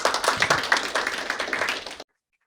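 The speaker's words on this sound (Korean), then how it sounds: "이덕환 원장님을 박수로 맞이하겠습니다" An audience claps to welcome a speaker at a university-and-city forum lecture, a brisk, even patter of many hands that stops abruptly after about two seconds, leaving silence.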